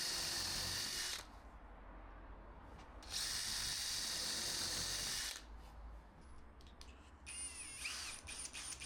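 A power drill whirs in two sustained bursts driving screws into wood, each lasting a couple of seconds, with a few short clicks and a brief higher whine near the end.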